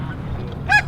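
Geese honking briefly during an early-season hunt over a fresh-cut corn field, a short burst of calls rising above steady outdoor background noise.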